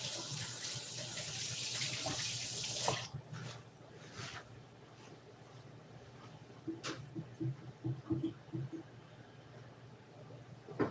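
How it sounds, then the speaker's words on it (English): Water running from a kitchen tap while hands are washed, a loud steady rush for about three seconds, then quieter splashing and handling sounds. "Wash my hands."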